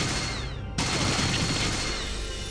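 Gunfire rings out at Frank Horgan in the Fallout 2 video game, a dense burst of shots filling the clip after a brief gap near the start.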